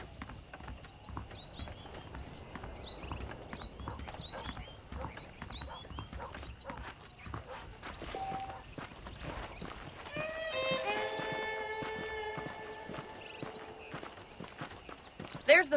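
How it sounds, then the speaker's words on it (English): Horse hooves clop in a loose walking rhythm across the ground in the video game Red Dead Redemption, with a muffled background and a brief tonal sound partway through. "The horses are saddled up over here."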